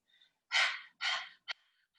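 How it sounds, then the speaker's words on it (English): Rapid panting breaths in a yoga breathing exercise, close and quiet: two forceful airy exhales followed by a short sharp puff, with a faint breath just before. "begin that rapid breath, starting by panting."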